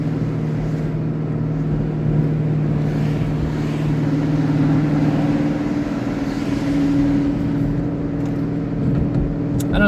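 A car cruising along at steady speed, its engine and road noise forming a continuous, even drone with a low hum throughout, close and alone with no talking.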